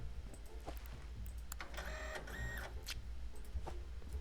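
A printer in a Parcel Simulator warehouse runs with a mechanical whir and rapid chattering feed bursts, heard fairly faint amid steady background game noise.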